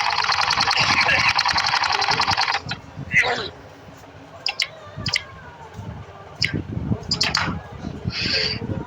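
A sewing machine stitches along the fold of a pair of trousers in a steady, rapid run lasting a couple of seconds, then stops; quieter handling clicks and talk follow.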